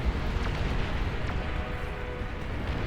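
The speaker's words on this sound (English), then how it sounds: "long-range plasma cannons firing" Long-range plasma cannons firing in the strategy game Beyond All Reason, a dense rumbling barrage of distant booms and low blasts rolling continuously, with a few sharper pops on top.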